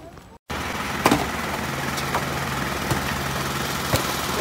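A boat engine idles steadily at close range, a continuous low rumble with a faint steady hum and a few light knocks over it, no talk.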